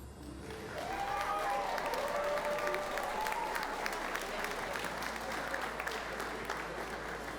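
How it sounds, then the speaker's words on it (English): Sustained applause from an audience at a school athletics awards ceremony, steady dense clapping filling the room for several seconds after a women's volleyball team honor, with faint crowd voices mixed in. "One more round of applause"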